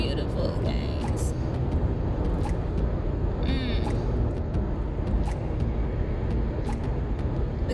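Car cruising along a road near Banff, heard from inside as a steady low road and engine rumble with occasional clicks, people talking over it.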